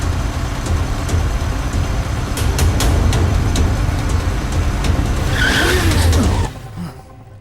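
A car turns sharply, its tires squealing in a rising, wavering skid over a steady engine and road roar; the noise cuts off abruptly near the end, leaving a quieter hum.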